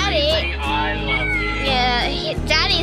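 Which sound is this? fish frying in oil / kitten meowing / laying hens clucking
kitten meowing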